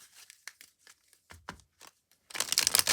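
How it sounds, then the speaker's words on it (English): A tarot deck is shuffled by hand in short bursts of soft card riffles and taps, ending in a louder, sustained flurry of shuffling close up. "I wanted to just shuffle it a few more times"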